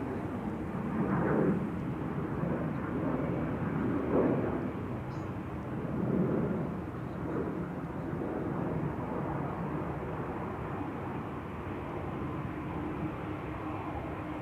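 A business jet takes off from runway 04 at Amsterdam Schiphol, a steady broad engine roar with a few swelling surges, moderately distant and continuous throughout.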